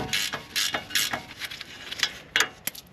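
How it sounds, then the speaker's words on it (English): Ratcheting wrench turning an 18 mm upper ball joint nut on a Chevy Tahoe/Silverado, giving a series of close, crisp clicking bursts in an uneven rhythm. "Now I have a ratcheting wrench just to make it go faster."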